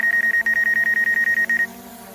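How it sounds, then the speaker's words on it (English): A DJI Air 2S drone's obstacle warning: a rapid series of about fifteen short, high electronic beeps in a steady rhythm, stopping abruptly, over a low background hum. "the beeping indicates what's in the way."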